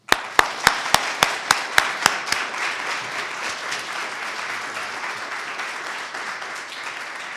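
An audience bursts into applause to welcome a keynote speaker, opening with about nine sharp, evenly spaced claps before dissolving into a steady, broad wash of clapping that carries on to the end.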